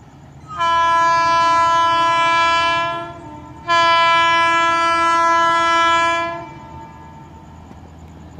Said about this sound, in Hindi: आज तो जनरेटर की आवाज़ बहुत जोरदार बज रही है।